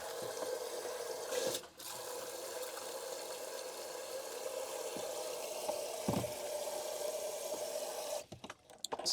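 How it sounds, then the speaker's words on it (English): Water running steadily into a camping kettle, filled at a campsite without a hookup, a faint continuous trickle with a few soft knocks and handling noises at the end. "we're literally filling up the kettle"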